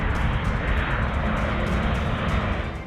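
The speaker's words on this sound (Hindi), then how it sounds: "भारी भरकम C-17 विमान की लैंडिंग न सिर्फ छोटे से रनवे पर हुई" Heavy C-17 military transport aircraft landing on a short runway, a loud, steady, broadband engine roar holding throughout with no voices.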